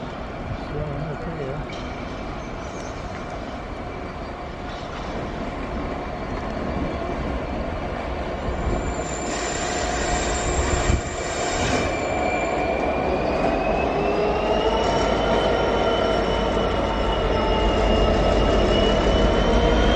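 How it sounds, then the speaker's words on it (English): A Freightliner freight train rumbles past on the rail line with a continuous loud roar and drawn-out wheel squeal rising through the pass, nearby, steady for a long stretch. "There's a freight liner coming up and going round the back"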